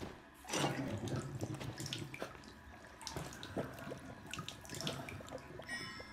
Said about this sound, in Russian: Капает что-то непонятная кровь.